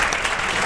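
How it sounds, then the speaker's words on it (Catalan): Brief burst of dense, loud studio audience applause on a Catalan TV game show, a continuous wash of clapping. "No passa res, un aplaudiment també."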